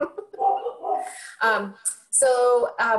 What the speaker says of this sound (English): can you hear my dogs barking?